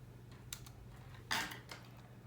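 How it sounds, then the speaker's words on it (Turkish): Brief keystrokes on a computer keyboard while entering a spreadsheet formula, a few soft close clicks with one firmer tap in the middle, against a low steady hum. "Shift tuşuyla eşittir yapıyorum"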